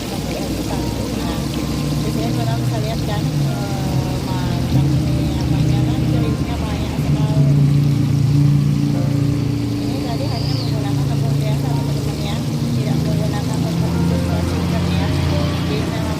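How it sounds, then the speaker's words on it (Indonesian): Hot oil poured over raw chili sambal gives a continuous sizzling crackle that stays fairly loud and steady for the whole stretch, with a low hum underneath and a voice talking faintly at times. "kita siram dengan minyak panas ya"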